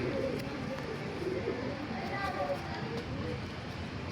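Pigeons, including a female, cooing in a loft during rain, low soft coos close by over a steady rushing background, with people talking nearby.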